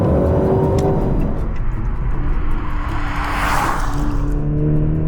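A Maserati Grecale SUV's engine revs hard under full acceleration toward 6,000 RPM, a loud, continuous, rising roar with no talking.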